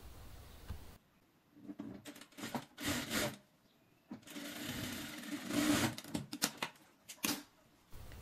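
Sewing machine stitching fabric for a dress seam, running in several short bursts of rapid mechanical whirring separated by quiet pauses, close by and fairly soft, with no talk over it.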